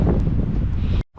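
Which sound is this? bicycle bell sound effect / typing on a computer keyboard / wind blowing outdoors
wind blowing outdoors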